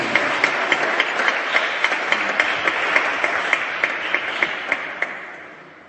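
Steady applause and cheering from a crowd at a church convention fills the space, with occasional sharper claps standing out before it gradually fades.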